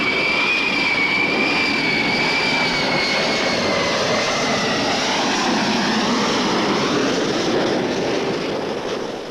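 Loud, steady jet aircraft engine roar with a high whine at John F. Kennedy International Airport in 1968, sustained throughout and slowly fading at the end.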